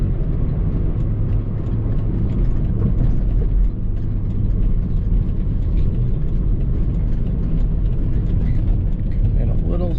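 Volvo V70R wagon engine pulling at half to three-quarter throttle, a steady loud drone with low-frequency rumble and road noise from inside the car, unbroken for the whole stretch.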